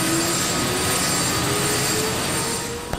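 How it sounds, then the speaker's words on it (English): A Chinook helicopter runs up during pre-flight checks, its turbine engines producing a loud, constant roaring whine with a steady high tone; near the end a brief click is heard. "Pre-flight checks on a Chinook normally take half an hour,"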